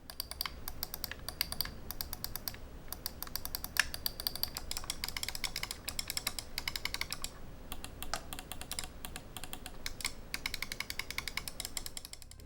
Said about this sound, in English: here we'll do a quick sound test so you can hear what the switches sound like